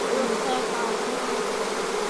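Honey bees fanning their wings at a hive entrance after a swarm collection, a dense, steady, close buzzing drone that holds without a break throughout.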